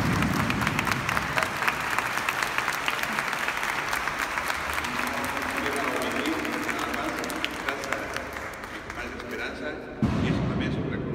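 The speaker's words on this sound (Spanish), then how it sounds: "fuerte el aplauso" Strong applause from a conference audience in a hall, a steady wash of many hands clapping close and loud for about ten seconds, tapering slightly before a brief renewed burst at the end.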